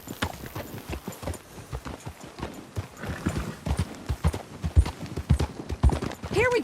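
Hooves of a silver dapple Missouri Fox Trotter clip-clop in a video game, a close, steady rhythmic gait, with a brief whinny near the end and no talk over it.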